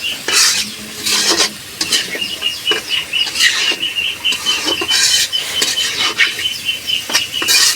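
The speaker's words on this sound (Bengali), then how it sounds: "পেস্টটা ভাজা ভাজা লাগে" Spice paste fries in a pan with a loud, close sizzle while a utensil stirs and scrapes it in repeated irregular bursts.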